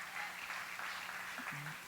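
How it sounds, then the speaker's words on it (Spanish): Church congregation applauding, a soft, steady patter of many hands clapping heard from a distance, with a faint voice near the end. "Démosle otro fuerte aplauso a nuestro Dios."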